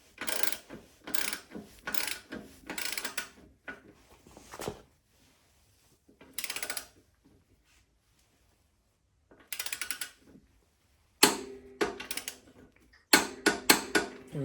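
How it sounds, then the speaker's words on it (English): Torque wrench tightening the rear axle nut on a chain-drive Honda 750 Shadow motorcycle to 65 foot-pounds, heard as clusters of sharp ratcheting clicks in short bursts with silent gaps between, close up. "Okay, so I got my torque wrench set, 65 foot-pounds."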